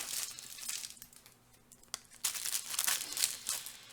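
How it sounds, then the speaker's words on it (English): Cellophane wrapping on a Velvet pipe tobacco pouch crinkles and rustles in bursts, soft at first, then louder and denser toward the end, close by and alone. "Just leave it in these pouches that are also covered in cellophane."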